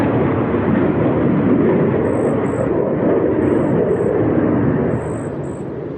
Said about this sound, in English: I think a jet just flew past me or something.